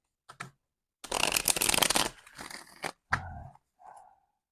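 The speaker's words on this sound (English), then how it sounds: "I'm now just doing a couple of shuffles." Tarot cards being shuffled by hand: a brief riffle, then a dense rustling burst of about two seconds, followed by shorter shuffles and a few soft slaps, close and fairly quiet with no talking.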